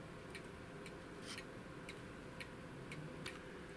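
Pendulum clock escapement ticking through a tiny microphone clipped close to the mechanism, with faint, evenly spaced ticks over a constant hiss and low hum.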